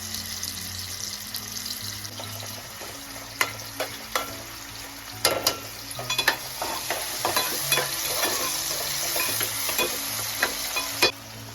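Onion and tomato fry in oil for a Koli-style mutton curry, a steady crackling sizzle with repeated sharp clinks and scrapes of stirring, close and busy throughout.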